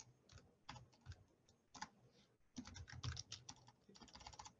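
Fingers tapping on a computer keyboard, irregular bursts of quick clicks with short pauses between, close and fairly quiet, with no talking over them.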